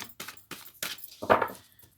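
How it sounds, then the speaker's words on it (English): Tarot cards are shuffled quickly in a series of short riffling bursts, several brisk slaps and flutters close by with brief pauses between them. "Okay, so I'm just doing a quick shuffle."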